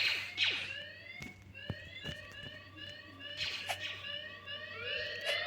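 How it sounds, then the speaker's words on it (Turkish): A shrill electronic alarm in a Roblox obby game wails in repeated rising sweeps, with sharp clicks and bangs scattered over a steady low hum. "Alarm çalıyor"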